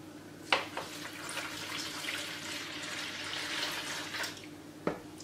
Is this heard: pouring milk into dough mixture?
yes